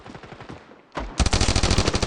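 Automatic M4 rifle fire in the mobile shooter game Standoff 2: quieter rapid shots, a brief lull, then a loud, close, sustained burst of fast repeated gunfire with no talking.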